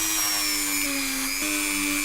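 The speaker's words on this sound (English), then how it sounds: "we're drilling the plastic with this bit, the plastic just ends up melting around the bit" A high, steady whine from a Dremel rotary tool drilling plastic, running continuously, its pitch dipping briefly partway through, close and loud with no voices.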